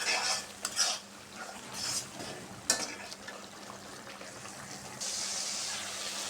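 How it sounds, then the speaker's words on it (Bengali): Spice masala with chilli powder is stir-fried in oil in a pan before vegetables go in, giving bursts of scraping and spatula clatter over a low sizzle, with a steadier hiss in the last second. "মশলাটা ভালোভাবে কষিয়ে নেব।"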